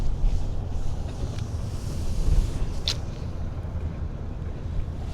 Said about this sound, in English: That wind in my ears.